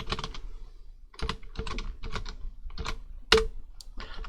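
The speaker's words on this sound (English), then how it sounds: "Press Ctrl I on the keyboard" Computer keyboard typing during spreadsheet formatting for an income statement model: a run of quick key taps in clustered bursts with short pauses and one sharper, louder keystroke near the end, close and fairly quiet, with no talk.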